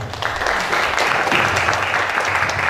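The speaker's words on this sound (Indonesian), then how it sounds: "tepuk tangan untuk Pak Boy" Audience applause after a talk at an art discussion forum, steady dense clapping from a crowd filling the whole stretch, moderately loud with a faint murmur underneath.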